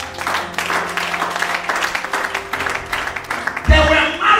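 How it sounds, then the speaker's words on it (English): A church congregation at Agape Restoration Ministries clapping densely and steadily through the whole stretch, with voices mixed into the noise and a louder swell near the end. "Your clapping is weak"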